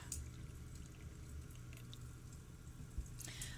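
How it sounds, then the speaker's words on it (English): Jasmine tea pours from a small teapot into a little cup, a faint, steady trickle of liquid with light drips, close by and without talk. "I have my favorite little teapot with some jasmine tea brewing. I'm going to pour some here."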